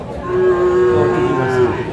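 A Sahiwal bull calf at a cattle market in Naogaon lets out one loud, sustained moo, close by, with faint crowd noise behind it.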